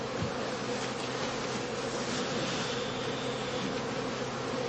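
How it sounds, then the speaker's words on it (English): A dense, steady buzz of many honeybees fills the air as a colony is driven from a bounced heather skep at an autumn heathland apiary. The swarm drones on without a break. "The skeps are bounced rhythmically in order to drive all the bees into the empty skep."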